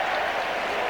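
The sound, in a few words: football crowd applauding Glenn Hoddle's goal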